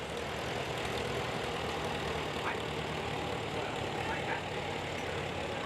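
A 1954 Farmall Super M tractor engine idles steadily outdoors at a steam show, its low throb constant throughout with faint background noise.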